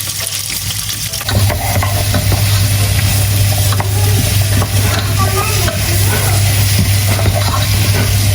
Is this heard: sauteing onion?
yes